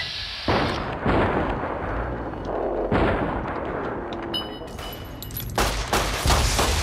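Pistol fire in Fallout: New Vegas: several loud, sharp shots with booming tails, spaced unevenly over a few seconds, close up and mixed with game noise.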